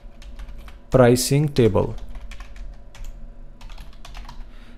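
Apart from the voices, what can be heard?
typing on a computer keyboard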